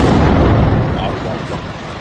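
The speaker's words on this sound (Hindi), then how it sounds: "यह मंजर है जब तेल अवीव पर आकर एक मिसाइल गिरती है" A missile strike on Tel Aviv in news footage: a loud, dense rumbling blast roars throughout, heavy and broadband, slowly easing off over about two seconds with a continuous wash of low booming.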